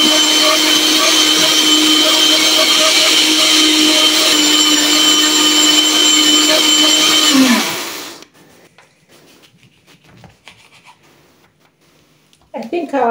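Blender whirring loudly and steadily as it purees a pineapple and mint smoothie, a dense motor roar that runs for about eight seconds before cutting off, followed by quieter clinks and handling noises.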